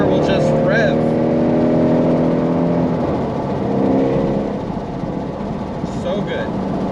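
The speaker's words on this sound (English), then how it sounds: "And then the motor will just rev." A Ford Shelby GT350R engine revs up with rising and falling harmonic tones, sustained loud and close, with a brief voice near the end.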